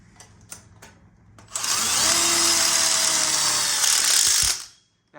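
A power drill drives a screw into an outdoor kitchen corner module tube, a few light knocks and then a loud, steady whirring burst lasting about three seconds before stopping, close up with no talk.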